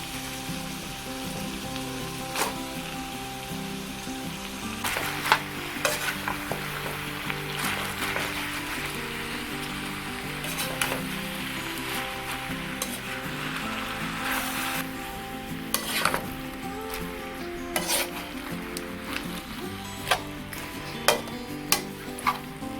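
Pechay leaves stir-fried with Spam in a pan, a soft sizzle under repeated clanks and scrapes of the utensil against the pan, irregular and close, with no talk.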